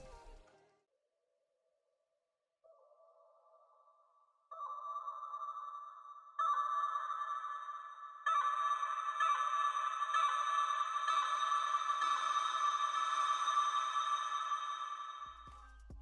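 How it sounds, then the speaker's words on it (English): A vocal sample run through a bitcrusher, Endless Smile and a filter gives a buzzy, gritty, crushed tone, entering in stages and growing thicker and louder in steady sustained layers. "Another tip is to use weird sounds, for example vocal effects"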